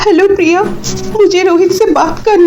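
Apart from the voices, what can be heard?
No everyday noises stand out.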